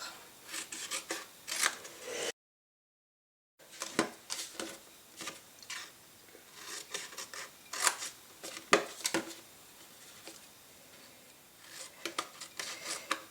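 Scissors snip and slide through paper while trimming an advent calendar box, a run of crisp close cuts in uneven bursts with a short silent gap near the start.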